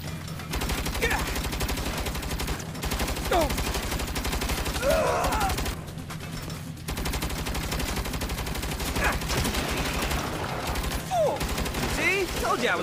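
Turret gunfire in the Saints Row video game: sustained rapid automatic bursts running almost continuously, loud and close, with brief gaps and voices talking over the shooting.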